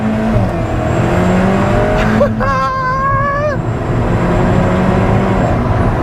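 An Alfa Romeo 4C in manual mode revving and accelerating hard on the road, its engine note climbing sharply through gears with a loud rising whine, then holding a strong, close roar.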